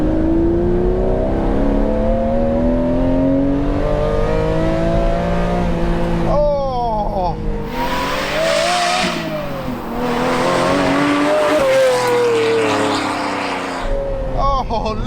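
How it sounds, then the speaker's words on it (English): A Ferrari 512 TR's flat-12 engine roars up through second gear on a straight, loud and close from inside the car, its pitch climbing in sweeping rises with brief dips at shifts, and a voice talks over it. "So there we are, we're coming up to a straight. Right, so 2nd gear, Ferrari 512 TR,"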